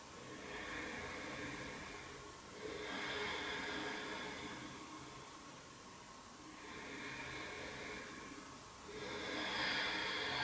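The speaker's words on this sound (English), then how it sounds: "Two more deep breaths." Slow, deep breaths during a yoga flow come in long airy inhales and exhales, each a soft hissing swell lasting a couple of seconds, close to the microphone and alone without talk.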